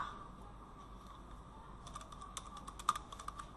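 A computer keyboard clicks in a steady, close patter of keystrokes that grows busier partway through, over a quiet room hum, with no speech.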